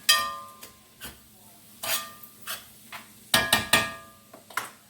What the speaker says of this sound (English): Okay, now I'm just going to stir all this around.